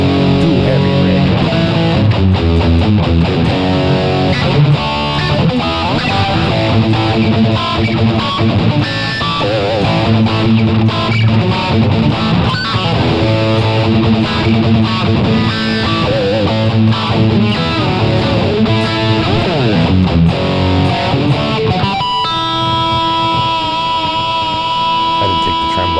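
Sterling by Music Man John Petrucci JP150D electric guitar played through a heavy, distorted amp rig, dense chugging chords and riffs loud and continuous throughout, with a sustained ringing chord near the end.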